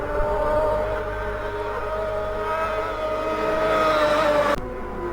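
A racing motorcycle runs flat out through a village during the Senior Manx Grand Prix on the Isle of Man. Its loud, sustained engine howl climbs steadily in pitch, then cuts off abruptly near the end.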